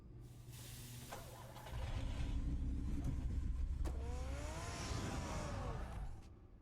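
A car engine in Batman: The Telltale Series starts and revs up, growing louder and sustained with rising whine, running alone without voices.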